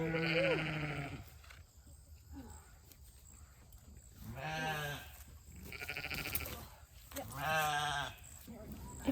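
Sheep bleat loudly and repeatedly while being physically handled on a farm while preparing a breeding group, drawn-out wavering cries coming in several bursts close by, with a person talking between them.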